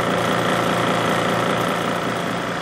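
A refrigerant recovery unit keeps running after finishing a transfer from a cylinder, giving a steady, loud mechanical hum with a fine rapid pulsing throughout and no voices.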